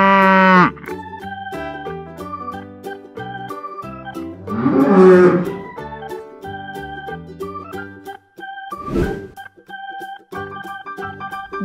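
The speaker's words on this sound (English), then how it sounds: "Limousine cattle." Limousin cattle moo twice, a short call at the start and a louder, rougher bellow a few seconds later, over cheerful background music.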